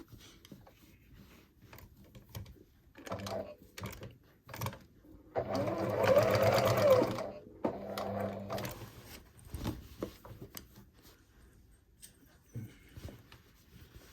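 Sewing machine stitching the collar of a denim jacket during a repair, a steady mechanical whir in short bursts with a longer continuous run in the middle, close and fairly quiet.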